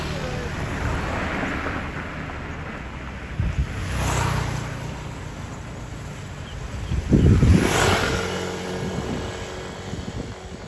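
Floodwater of the Ping River in Chiang Mai, swollen during a record flood, rushes strongly past a river bend as a steady broadband roar with wind buffeting the microphone and a couple of louder surges.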